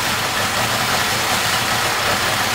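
Yamaha XS1100 Sport motorcycle engine, warmed up and fuel-injected, idling unevenly with a steady close-up broadband rumble and no voices.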